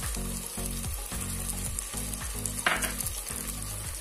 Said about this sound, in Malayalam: ചെറിയ ഉള്ളിയും കുരുമുളകും വലിയ ജീരകം ഇട്ടിട്ടുള്ള പേസ്റ്റ് ചേർത്ത് കൊടുക്കും